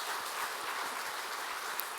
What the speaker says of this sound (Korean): 우리 박수로 하겠습니다